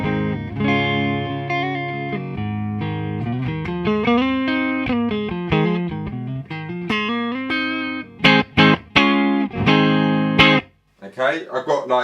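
Clean electric guitar rings through a Supersonic amplifier with no effects, playing chords and single notes with clear sustain, then a few quick strums and plucked notes toward the end.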